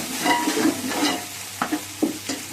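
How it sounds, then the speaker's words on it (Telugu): Mutton dum biryani mixture being stirred and fried in a pan, a steady sizzle broken by several distinct scraping stirs near the close, with no talk. "ఇప్పుడు ఇలాగా మనకి పచ్చివాసన అనేది పోయే వరకు కూడా ఇలా వేయించుకున్నాం కదా"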